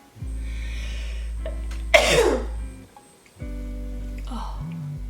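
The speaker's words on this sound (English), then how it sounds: "Lashes like fell off with that sneeze." One sharp, explosive sneeze bursts out close to the microphone, cutting through a low steady hum before fading back to quiet.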